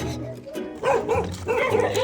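A dog barks close by in a quick run of sharp barks, heard over background voices and people talking.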